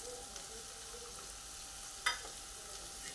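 Cashews and paneer sauté with tomato in a pan for a paneer pulao, giving a quiet, steady sizzle with one brief clatter partway through.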